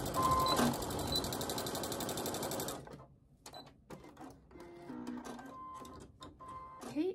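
A Brother Innovis sewing and embroidery machine runs a fast, even stitching rattle for about three seconds, then stops, followed by quieter clicks and handling sounds.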